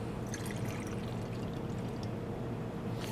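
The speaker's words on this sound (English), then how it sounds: "we are going to pour 3 ounces of the vodka" Vanilla vodka pours over candy corn in a bottle, a continuous close liquid splash and trickle lasting a few seconds.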